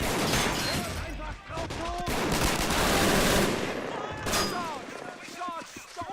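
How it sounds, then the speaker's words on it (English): Rapid machine-gun bursts and scattered rifle shots crackle through a World War II street battle in Men of War Assault Squad 2, steady and dense throughout, with someone talking over the firing. "He's shooting people down as they run across the street."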